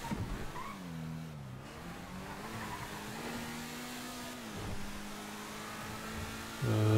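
A car in GTA Online revving and accelerating, its engine note rising and falling as it pulls away and shifts, with a brief tire squeal near the end; fairly quiet and without talk.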